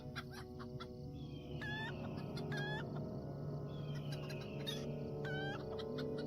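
A chicken clucks during the chicken run quest in the game LOTRO, with several sharp rising squawks in two clusters over steady background game ambience.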